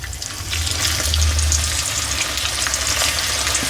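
Onion pakoda batter frying in a batch of hot oil, a steady bubbling sizzle that holds fairly loud and close throughout with no one speaking.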